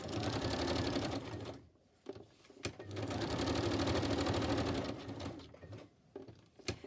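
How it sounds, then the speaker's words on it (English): Sewing machine stitching fabric for an ephemera bag, close and steady rapid clatter in two long runs with a brief pause between them and small clicks at the stops. "I'll stitch around it."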